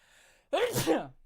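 One sharp, close sneeze bursts out after a brief stretch of near-quiet.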